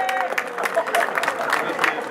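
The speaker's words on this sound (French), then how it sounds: "vous pouvez applaudir France parce qu'elle le mérite" Audience applause at an associations forum in Grasse, a dense wash of clapping with crowd murmur and voices mixed in, steady and fairly loud throughout.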